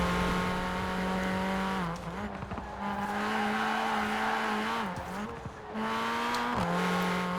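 Mini Cooper John Cooper Works in Forza Horizon 4, a buzzing engine note that dips and recovers through shifts while tires squeal and slide through corners, close and loud with no voices.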